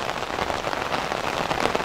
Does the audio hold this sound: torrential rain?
yes